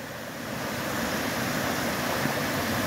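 A clear, slightly tea-colored mountain stream pours over boulders at a ford on the Appalachian Trail in New Hampshire, giving a steady, close, full rushing roar that holds constant throughout with no voices.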